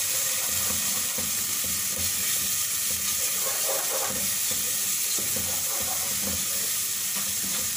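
Ground cumin, coriander and black pepper are stirred into a hot frying pan for gola kabab masala, giving a continuous close sizzle with light scraping strokes throughout and no voices.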